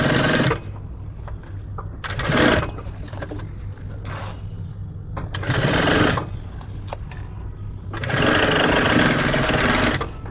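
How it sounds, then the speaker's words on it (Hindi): Sewing machine stitching a line along a zipper pouch, in three loud bursts of steady running, each a few seconds long, separated by quieter pauses with low handling noise. "And now I'm going to stitch along this line."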